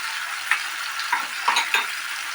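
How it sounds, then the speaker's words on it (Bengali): A spice paste for mustard bhetki fish is stirred and fried in a pan, with a soft constant sizzle broken by several brief scraping stir strokes, fairly quiet and with no talking. "আমি এই মশলাটাকে কষবো।"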